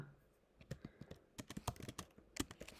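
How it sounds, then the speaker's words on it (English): Quick bursts of typing on a computer keyboard, irregular clusters of crisp key clicks close by, fairly quiet, with no talking. "Just type this real quick."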